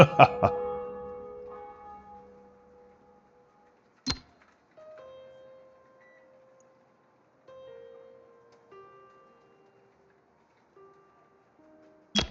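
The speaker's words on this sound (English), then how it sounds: "I've even included the old cathedral bells." Deep cathedral bells in the RailRoute video game ring out and decay slowly, one near the start and others spaced seconds apart, with long sustained tones hanging between them.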